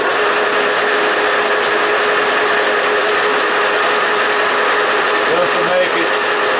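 Lathe facing off and chamfering the ends of a metal tube, a loud, steady mechanical cutting whir with a constant tone throughout, close up and uninterrupted.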